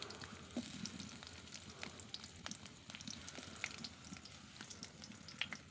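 Onions frying in a pan for a mixed non-veg curry, giving a steady, soft sizzle and crackle with occasional small pops throughout, no voices.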